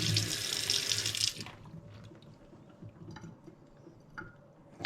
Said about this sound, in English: We're going to get all the dirt rinsed off of here